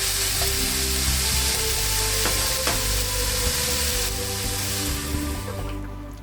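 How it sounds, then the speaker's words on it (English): Onion frying in a pan with bacon gives a loud, dense, continuous sizzle up close, with a few soft stirring knocks. "add the onion to the pan as well"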